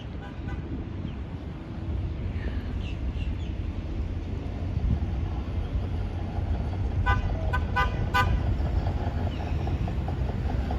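A high railer sounds its horn in Lakeland, with a few short, bright toots near the end over a steady rumble of passing rail traffic, fairly distant and moderately loud.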